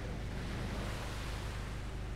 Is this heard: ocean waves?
yes